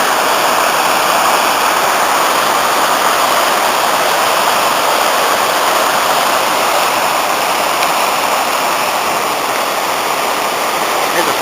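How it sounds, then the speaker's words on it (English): Rushing water pours steadily over the lower Nantcol waterfall, about a hundred-foot drop, in a loud, constant broadband roar that never lets up, heard close by on a dull day in Wales. "Begins at the lower waterfall, roughly 100"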